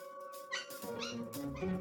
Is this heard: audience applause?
no